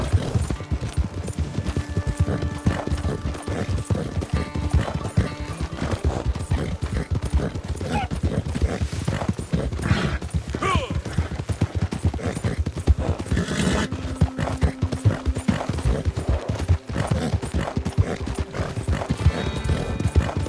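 Horse hooves pound in a fast, steady gallop along a snowy trail in the Red Dead Redemption 2 video game, loud and close, with a brief whinny and occasional distant gunshot-like cracks amid the rhythmic beats.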